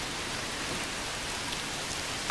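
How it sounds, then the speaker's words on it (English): Heavy rain pours in a dense, steady hiss, drumming evenly on surfaces close by, with no voices. "It's raining pretty hard now."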